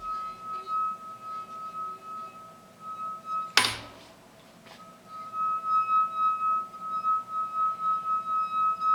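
A steady, high singing tone rings from a finger circling a wine glass rim, with faint overtones above it, cut partway through by a brief sharp knock before the tone resumes.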